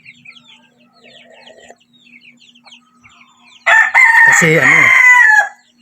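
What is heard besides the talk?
Rhode Island Red chickens, rooster crowing and clucking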